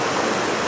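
River water rushes through a canoe chute on the Thompson River in Gippsland, Victoria, Australia, a dense and steady roar that fills the whole moment.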